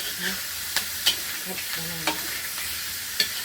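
Spicy eel is stir-fried in a pan with chili, with a soft steady sizzle and scattered scraping clicks as the spatula stirs, all fairly quiet and without talk.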